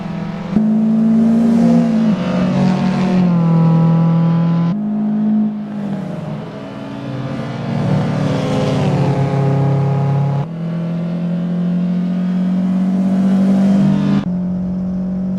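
Race cars in Assetto Corsa lap the Barcelona City Circuit in reverse, engines loud and close, holding steady whining tones that drop and climb with each gear change as cars jostle and overtake.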